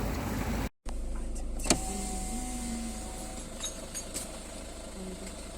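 A steady low car engine rumble runs throughout, with a brief whirring motor and a few light clicks and taps, on a street in Güllük, Bodrum.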